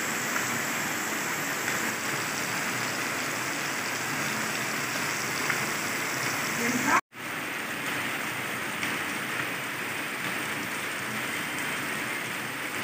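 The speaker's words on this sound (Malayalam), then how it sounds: "നല്ല മഴ എന്ന് പറയുന്നത് നല്ല മഴയാണ്," Heavy rain pours in a steady, dense hiss that holds at an even loudness, broken by one brief cut about halfway through.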